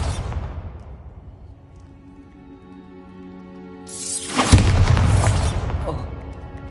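A Bombarda blasting spell detonates in Hogwarts Legacy with a loud, deep boom that swells and rumbles on for a couple of seconds after a quieter stretch with faint tones.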